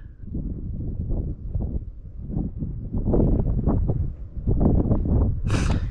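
Gusting wind buffets a microphone outdoors at a gold prospecting spot in Leonora, a steady loud rumble with surging peaks through the whole stretch and a brief hissy burst near the end.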